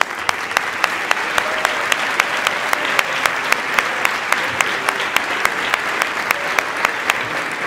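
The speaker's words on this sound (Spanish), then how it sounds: "yo quiero dar, aunque ya ha salido, un gran aplauso para ella" Sustained audience applause fills a theatre after a children's dance-school performance of Pinocchio, a dense, steady wash of many hands with a few sharper rhythmic claps standing out at a regular beat.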